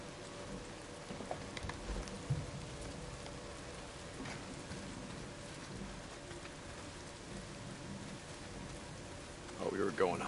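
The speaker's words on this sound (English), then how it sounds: "Well, not if it's pissing down rain." Steady rain falls in Days Gone, a constant broadband wash that stays even throughout, with a louder rustling surge near the end and faint speech mixed in underneath.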